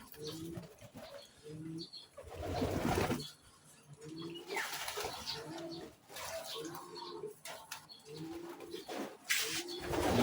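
Soft pigeon coos repeat over splashing and fluttering water as pigeons bathe in water mixed with white vinegar and salt, with brief wing flaps; close by, no talking.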